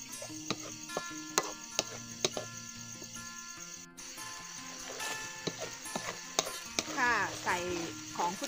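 A spoon scrapes and knocks against a pot in a steady stirring rhythm while sticky sweet pumpkin dough filling cooks. Tonal background sounds continue underneath.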